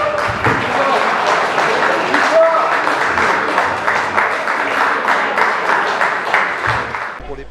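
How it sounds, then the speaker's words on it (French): An audience at a community council meeting applauds the community councillors, a loud continuous round of clapping that carries on for several seconds with a few voices under it. "nous le levions pour applaudir les conseillers communautaires qui ont toujours été présents à tous ces conseils"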